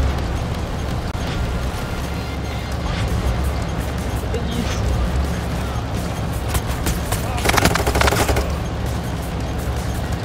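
Gunfire in the video game Payday 3, rapid overlapping shots and bursts under a dense, busy mix of game noise, with a louder cluster of shots near the end, and a voice talking over it.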